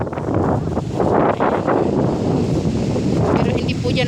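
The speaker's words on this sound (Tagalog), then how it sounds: "Lalo pag ganito malakas ang hangin." Strong wind gusting beside a wide, fast-flowing river in the countryside, a loud continuous roar buffeting the microphone with rustling throughout.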